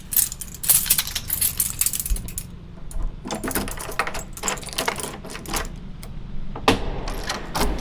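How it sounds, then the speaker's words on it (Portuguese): A small handful of coins handed over as change jingles and clinks in bright, metallic bursts, with a busy cluster at the start, quieter rattling through the middle and another flurry near the end. "até recebeu um pequeno bolinho de moedas como troco"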